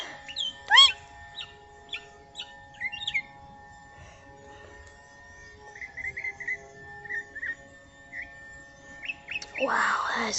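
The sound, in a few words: wild bird calling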